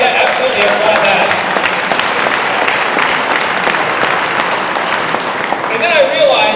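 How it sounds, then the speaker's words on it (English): A rally audience breaks into loud, sustained applause, dense clapping from a large crowd that holds steady for several seconds with a few voices mixed in. "They absolutely applaud that."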